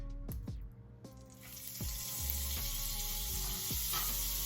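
Butter sizzles in a hot pan over browned chicken fond, a steady broadband hiss joined by repeated scraping knocks from a utensil, close and fairly loud with no talking.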